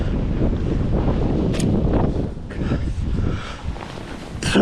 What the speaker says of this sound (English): It's blowing an absolute hoolie now.